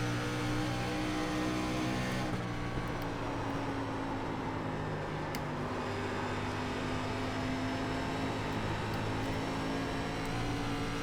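Simulated SRX race car engine at Dover in iRacing, a steady loud drone held under partial throttle with a brief rise in pitch near the start, continuous and close.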